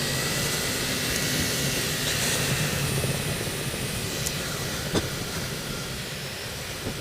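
Out on a ride, a 2016 Kawasaki Z800 with its 800 cc engine sends a steady, dense rumble and drone through heavy wind rush, holding even loudness with no clear shifts.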